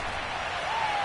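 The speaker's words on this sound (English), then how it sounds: "How about some applause for the defense there?" Stadium crowd at a football game applauding the defense after a stopped play, a steady, continuous wash of distant clapping and cheering throughout.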